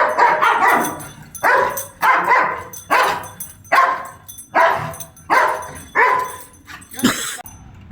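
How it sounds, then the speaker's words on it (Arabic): Dog barking in regular, loud, close bursts, roughly one deep bark every second across several seconds, each bark sharp and full, with short gaps of quiet between them. "الكلب عنده وضع استعداد على طول زي ما انت شايف"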